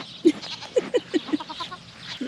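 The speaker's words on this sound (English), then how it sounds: "Breeding season has started for our dairy goats, and some of the boys are very excited about it." Excited male dairy goats in breeding season bleat in a series of short, gruff, rhythmic calls on a homestead, fairly close, over a noisy outdoor background with no talking.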